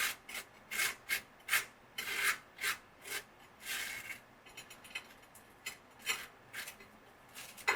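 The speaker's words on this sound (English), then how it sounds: "Spread my peanut butter." A knife spreading peanut butter across toast with close, rhythmic rasping strokes, about a dozen in quick succession and each a sharp scrape, with no voices over them.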